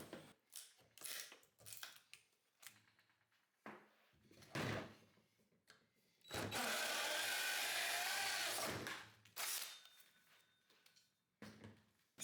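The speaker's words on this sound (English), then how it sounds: "then finish with the drill" A power drill whirs for about two and a half seconds while finishing a hole in a 2x4 board. Scattered knocks and clatters of wood and tools come before and after, at a quiet level, with no talk.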